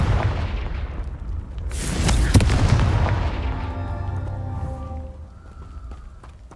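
A Confringo fire spell in Hogwarts Legacy erupts in a loud, deep blast with a crackling burst that rolls into a long fading rumble, with game music ringing out as it dies away.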